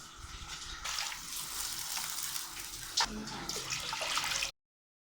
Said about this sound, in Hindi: अब इसमें मैं पानी शामिल कर रही हूँ अपने चावलों के हिसाब से।